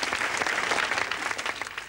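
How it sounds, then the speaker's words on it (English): Audience applause in a TV studio for metal benders, a brief burst of dense clapping from a sizable crowd, fairly close and steady with slight swells. "let's have a warm round of applause for Masuaki Kiyota, Steve Shaw, and Mike Edwards"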